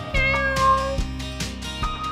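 A cartoon cat meows repeatedly over a bright, steady musical backing, the meows clear and close in a children's French grammar lesson.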